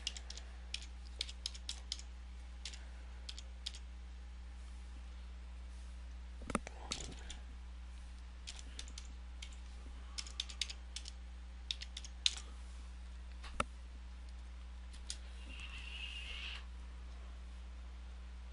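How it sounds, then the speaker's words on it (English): Fingers type on a computer keyboard in scattered bursts of light, close key clicks with pauses between them, over a steady low electrical hum in a quiet room, with one or two louder thumps. "I'll just type it in right now"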